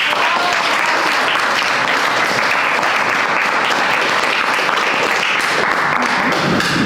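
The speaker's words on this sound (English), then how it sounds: "Can we give a round of applause?" Audience at a university internship and research slam breaks into sustained applause, dense clapping filling the room at steady loudness for several seconds with no pause.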